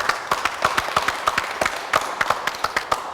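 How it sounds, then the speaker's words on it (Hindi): An audience at a farming crop-protection event claps together in a round of applause, with sharp, fairly close claps in a quick, uneven rhythm that continues throughout. "तो अभी हम सभी मिलकर एक बार जोरदार तालियां बजाते हैं।"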